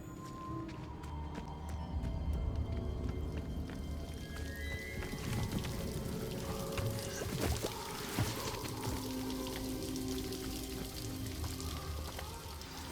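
Steady rushing waterfall from the Hogwarts Legacy video game, a continuous broadband roar that stays even throughout, with faint game music tones layered over it.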